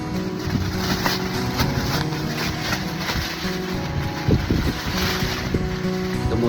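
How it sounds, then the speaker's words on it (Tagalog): Strong wind roars and buffets steadily high up in a tree house, with a rushing, blustery texture and occasional low thumps, no voices. "Ngayon, medyo malakas ang hangin dito."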